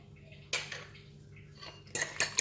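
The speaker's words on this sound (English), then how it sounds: "we're going to beat the egg" Duck eggs with salt, pepper and sesame oil are beaten in a bowl with utensil strikes, two short bursts of clinking separated by a quiet pause, fairly close and faint.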